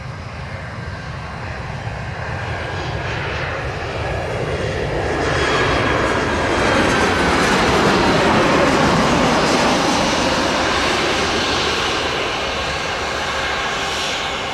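An American Airlines Boeing 777-300 landing at Montego Bay, Jamaica, gives off a broad, loud jet engine roar that swells toward the middle and then eases slightly, sustained throughout with no talk.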